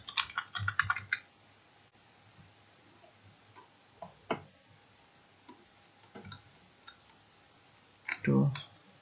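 Keyboard typing while laying out a cash memo table in MS Word: short clustered bursts of key clicks, close and fairly crisp, alternating with someone talking in Bangla.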